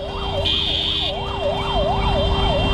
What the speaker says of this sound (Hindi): निकलने नहीं देंगे एम्बुलेंस को।